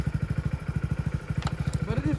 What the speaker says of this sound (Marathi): आता चालून आम्ही बाईकवर फिरायला फिरायला